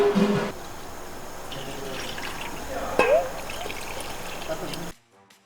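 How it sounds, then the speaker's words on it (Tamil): Water trickles and pours steadily into a pot for rinsing for several seconds, with soft splashing, then stops abruptly near the end. "நம்ம கொஞ்சமாக தண்ணி விட்டு இதை கொஞ்சம் அலசிக்கலாம்"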